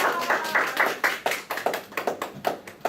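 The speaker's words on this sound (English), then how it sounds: "Give her a big round of applause." Sparse clapping at a public speaking event, a few pairs of hands tapping out an uneven, fairly quiet rhythm of distinct claps with little else around it.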